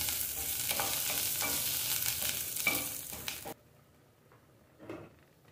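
Minced garlic added to simmering chicken broth for a chicken and cornmeal soup, giving a busy sizzle and stirring patter that cuts off abruptly, followed by a single faint scrape.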